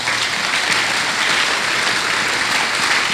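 A church congregation breaks into steady, sustained applause that fills the space evenly from start to finish, dense and unbroken with no voices standing out.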